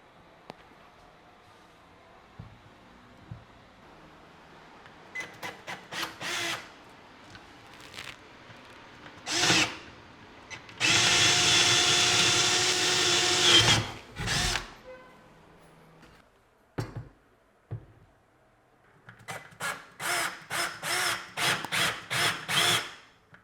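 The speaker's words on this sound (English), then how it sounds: "So now I'm taking a drill of 10. This is a wood drill" A power drill with a 10 mm wood bit boring holes into a wooden kitchen counter for a hob: several short whirring bursts separated by pauses, then one long sustained grinding run, and more rapid stuttering bursts near the end.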